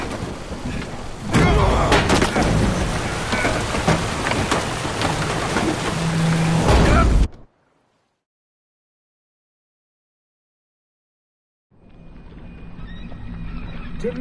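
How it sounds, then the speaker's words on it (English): A storm at sea aboard a boat in The Witcher 3, with heavy rain, rumbling thunder and roaring wind sustained loudly for several seconds, then a sudden cut to silence before the storm ambience returns more faintly. "Didn't bargain for no storm."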